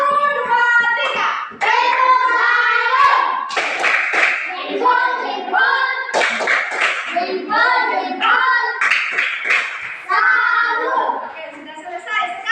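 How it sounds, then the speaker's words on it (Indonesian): A class of children does a rhythmic clapping salute for a group, patterned claps mixed with chanted young voices, loud and close. "Kita tepuk salut dulu untuk kelompok sini"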